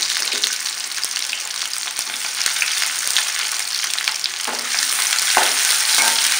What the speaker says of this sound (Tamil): எண்ணெய் காஞ்ச உடனே கத்திரிக்காய் போட்டுக்கலாம்